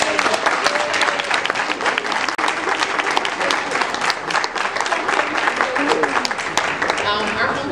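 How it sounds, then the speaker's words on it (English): An audience at a neighborhood green summit kickoff applauds Graciela Robledo, with sustained, dense clapping from a crowd and a few voices mixed in across the whole stretch. "if we could all just give a great hand of applause to Graciela"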